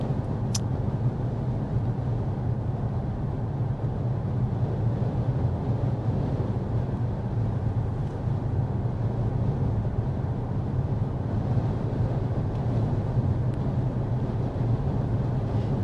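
Steady road and engine drone inside a 2024 Kia Seltos cabin cruising at 55 mph, a constant low rumble with wind rush that holds evenly throughout, no talking.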